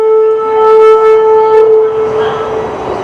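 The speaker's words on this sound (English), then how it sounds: "I just got off the subway here at Yorkdale Station" A Toronto subway train on Line 1 at Yorkdale Station sounds a loud, steady tonal whine that holds for over a second and a half, then fades into broadband rumble as the train moves.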